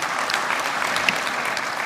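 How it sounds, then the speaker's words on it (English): Steady, dense applause fills the hall from a crowd at a graduation ceremony for IT students, an even wash of many clapping hands with no pauses. "Can we have a round of applause for that?"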